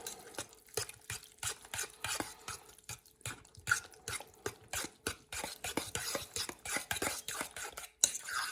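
Spicy coleslaw being stirred and tossed with salt gives a busy, close series of wet, crunchy mixing sounds and soft utensil scrapes against a bowl, continuous with small pauses and no talking.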